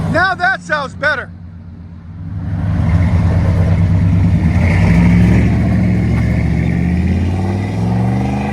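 Someone speaks briefly, then a Chevy Silverado 1500's 5.7L 350 V8 through a Flowmaster exhaust swells into a loud, close, sustained rev with a deep burbling growl that holds steady to the end.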